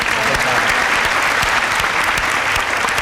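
A studio audience at a science quiz show applauds steadily and loudly, a continuous close crackle of many hands lasting the whole stretch.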